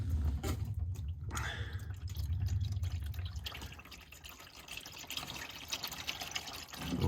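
Oil drains from the transfer case of a Suzuki Vitara, pouring and splashing into a pan with a continuous liquid gurgle and some dripping, faint and alone without speech.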